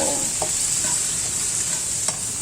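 Chicken pieces sizzle in a hot pan as Filipino chicken adobo starts frying, a steady, close bright hiss with a few soft clinks of stirring on top and no voices.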